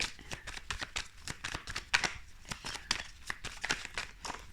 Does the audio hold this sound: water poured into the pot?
no